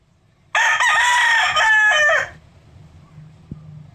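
A gamecock that recently won a fight crows once, loud and close, a drawn-out cock-a-doodle-doo lasting under two seconds over faint background noise.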